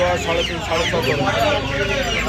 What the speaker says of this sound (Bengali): এখানে দেখতে পাচ্ছেন চীনা মুরগি আছে, চীনা মুরগির বাচ্চা